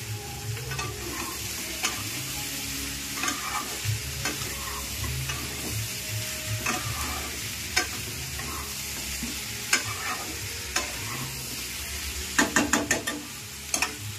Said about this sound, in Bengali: তারপর মাংসটা দিলাম আর ওপর থেকে কয়েকটা কাঁচা লঙ্কা ছড়িয়ে দিলাম।